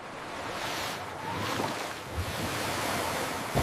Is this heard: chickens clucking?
no